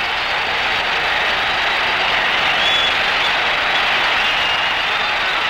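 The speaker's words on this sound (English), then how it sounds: "These great Chicago fans stand to cheer the champions and their valiant Blackhawks." A dense, roaring crowd cheers in the Chicago arena after Game 7 of the 1971 Stanley Cup Finals. It makes a loud, unbroken wash of cheering and applause that never lets up.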